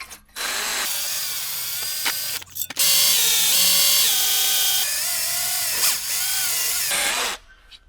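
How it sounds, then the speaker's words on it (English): A power drill spins a wire brush against the rusty steering knuckle housing of a Mini Cooper S R53, giving a loud, steady whir with scraping grit that dips and surges as pressure changes, close and alone. "I am using the drill and this brush."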